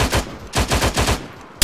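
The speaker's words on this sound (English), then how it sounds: "Мы попали под тяжелый обстрел." Heavy automatic gunfire in the military shooter Arma 3, loud rapid bursts pounding in a steady rhythm, ending in a sharp close crack.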